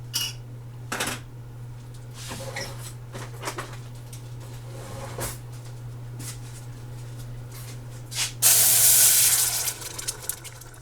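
A container of chili verde is opened over a kitchen sink, with small clicks and rattles and then a sudden loud hiss near the end, under a steady low hum.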